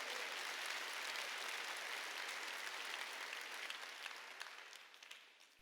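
A church congregation applauds during an Easter Sunday service, dense sustained clapping from a crowd that slowly fades toward the end.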